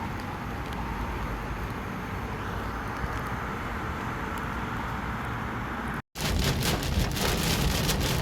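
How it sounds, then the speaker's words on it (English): Heavy rain pounds a moving Infiniti Q50 during a Houston storm under a tornado watch, a dense, loud, continuous wash of drops with road rumble, cut briefly by a short gap before resuming. "these Houston storms are crazy"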